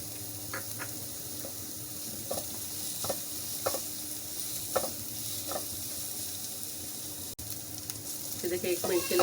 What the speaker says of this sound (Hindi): फिर देखिए अब इसमें मैं डाल दूंगी 1 चाय का चम्मच लहसुन अदरक का पेस्ट,